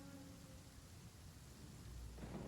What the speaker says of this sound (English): Standing in the rain, Aoife, gets you wet?